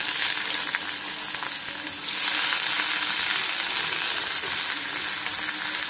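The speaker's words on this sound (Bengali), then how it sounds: "তো দেখো প্রথমে আলুগুলো একটু ভেজে নিচ্ছি।" Potatoes frying in a pan give off a steady, close sizzle that grows louder and brighter about two seconds in, then holds a dense crackling hiss to the end, with no talking.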